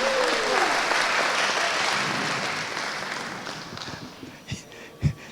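Audience applause fills a wedding reception, a dense steady clapping that gradually thins and fades toward the end, with a few louder isolated claps near the close.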